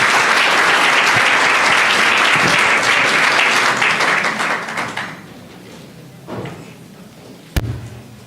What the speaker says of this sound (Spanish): ¿y por qué no la recibimos también con un aplauso?